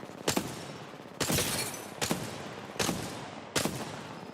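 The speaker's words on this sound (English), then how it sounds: "Shots fired." Five loud, distinct gunshot blasts ring out at uneven intervals in an Apex Legends match, each a sharp crack with a short decaying tail and no talk over them.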